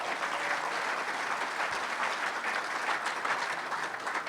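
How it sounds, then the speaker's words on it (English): A conference audience gives a round of applause for platinum sponsors at a welcome session. The clapping is dense and sustained, filling the room at an even level from start to finish. "so if you give them a round of applause"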